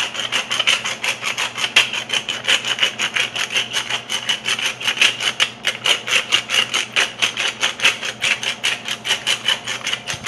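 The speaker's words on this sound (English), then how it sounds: "And then some freshly cracked black pepper." Freshly cracked black pepper comes from a hand grinder in a rapid, even run of raspy grinding strokes that lasts about ten seconds, close and clear with no talking.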